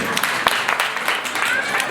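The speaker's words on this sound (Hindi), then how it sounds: "एक बार ताली बजा दो जोर से" Audience applause at a Jain religious gathering in Delhi, dense and steady clapping from many hands filling the whole moment at fairly close range.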